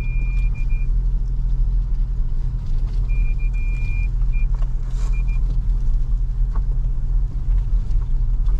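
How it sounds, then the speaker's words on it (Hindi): A car's parking sensors beep in a repeated high tone, in short bursts over a steady engine rumble, near a castle in the Scottish Highlands near Inverness. "गाड़ी के भी सारे सेंसर बोल रहे हैं यहाँ पे."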